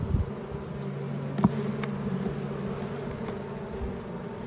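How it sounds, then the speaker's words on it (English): Honey bees hum and buzz around opened brood frames of an overwintered hive, a steady close drone with occasional louder passes of single bees near the microphone. "you can see the bees are just starting to make some drones between frames"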